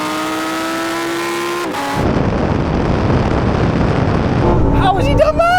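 Supercars, a Ferrari 296 GTB, McLaren 750S and Porsche 911 Turbo S, launch in a drag race: a loud rising engine drone gives way to a roaring, rushing wall of engine and wind noise, with speech near the end.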